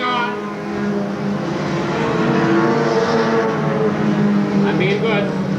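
Race cars circle a short oval at Seekonk Speedway during weekly racing in 1993, a steady loud engine drone with revving swells that carries throughout, with a voice talking over it.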